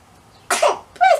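Two quick sneezes in a row, close and sharp, in a quiet home nursery where a newborn baby is being cared for.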